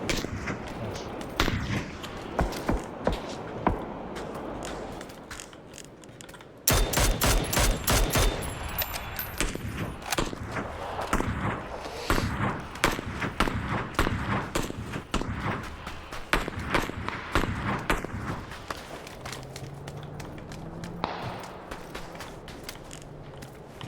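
Rapid bursts of gunfire from a shooter video game, clustered volleys and single shots crackling close and loud, with footstep-like clatter between, no talking over it.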